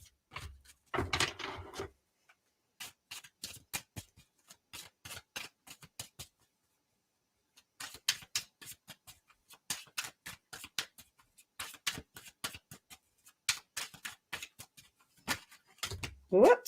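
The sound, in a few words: shuffling a deck of tarot cards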